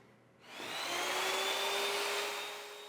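A Machorool 10-inch jobsite table saw cuts through thick maple, its motor rising from quiet into a loud, steady, straining whine that holds close up without any talking.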